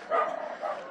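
A dog on a street in Baguio, Philippines gives a single brief bark or yelp at moderate distance, short and somewhat faint.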